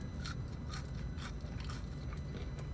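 Crunchy McDonald's french fries bitten and chewed close up, a few crisp crunches over a steady low background hum.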